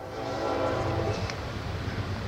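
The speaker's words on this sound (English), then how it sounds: "You ever notice the train goes by when I'm trying to film?" A train rumbles past nearby with a steady low roar and some brief higher squeals or horn-like tones, continuous and fairly loud throughout, with no talking over it.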